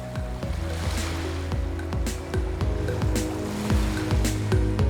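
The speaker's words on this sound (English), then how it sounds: "peacefully allow the waves hitting the shores to" Ocean waves wash onto the shore of Scrub Island, a private Caribbean island, in a steady, full roar of surf that swells and recedes over a low, continuous rumble, with no talking.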